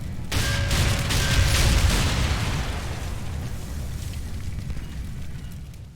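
A heavy burst of rapid 30 mm cannon fire from an infantry fighting vehicle in Combat Mission: Black Sea, loud and booming, followed by a sustained rumbling roar that slowly fades.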